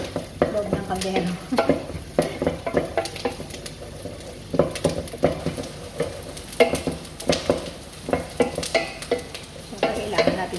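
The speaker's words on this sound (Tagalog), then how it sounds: "kailangan natin itong haluin para mapantay po yung pagkapula ng sibuyas" Onions sizzling in a pot for meat laham salona while a utensil stirs and scrapes, giving a rhythmic series of scraping strokes over a constant frying hiss.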